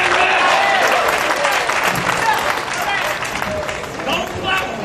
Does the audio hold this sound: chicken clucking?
no